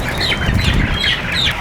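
Chickens cluck and call continuously in a poultry barn on a 25,000-bird farm in the province, a dense, busy flock sound close to the microphone with no talk over it.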